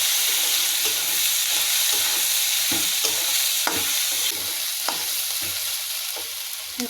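Chopped onions fry with bay leaf, cardamom and cinnamon in a loud, close, continuous sizzle, punctuated by repeated scraping strokes of a spoon stirring the pan, with no voices.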